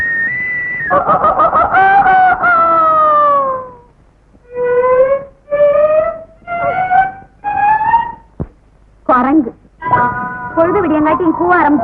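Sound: person imitating rooster crowing

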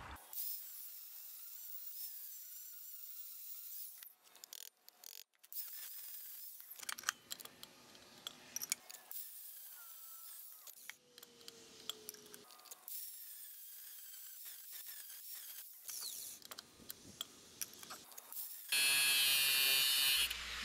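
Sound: grinding a slot into a steel bolt

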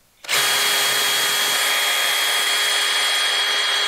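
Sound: power drill running a reamer

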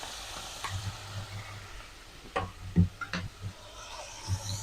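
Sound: tomato pieces frying in a pan

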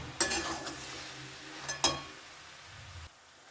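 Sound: stirring cabbage curry with fish head after sprinkling flour

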